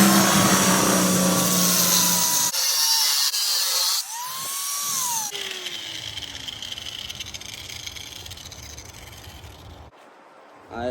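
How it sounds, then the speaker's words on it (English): An angle grinder cuts two slits into the bottom of an SS Camaro seat bracket during a swap into a G-body, a loud sustained whine that shifts pitch and pauses briefly several times before easing off near the end. "So I'm finna go hit this with the grinder and the drill"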